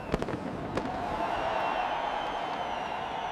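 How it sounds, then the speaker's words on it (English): Fireworks burst over the newly opened Burj Khalifa tower, with a few sharp cracks at the start followed by a continuous crackling rumble of distant explosions. "Fireworks celebrated a new world landmark."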